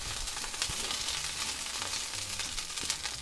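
Four tablespoons of tomato paste sizzling in hot olive oil, a dense continuous crackling hiss with scattered small pops and snaps, close by and fairly quiet, no voices.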